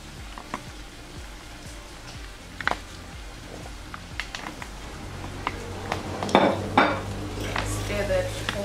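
Pilchards in tomato sauce stirred in a pan, with scattered spoon clinks and scrapes that build into louder scraping and a soft sizzle toward the end, close by.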